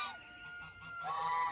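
Farm geese honk loudly and close, a couple of drawn-out, nasal calls overlapping in quick succession.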